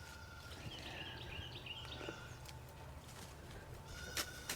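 Goats bleat on a farm, several calls scattered through a steady outdoor background at moderate distance, with no talking.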